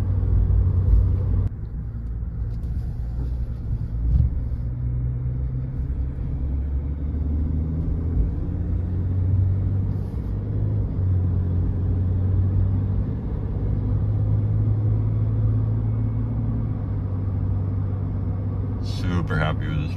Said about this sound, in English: Barely have to give it throttle, just accelerates really smooth.